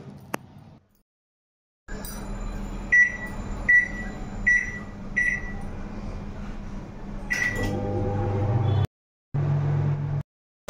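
A microwave oven hums steadily while cooking fish coated in yogurt, mustard and poppy seed, with several short electronic beeps from its panel, a door clunk, and quiet pauses at the start and near the end.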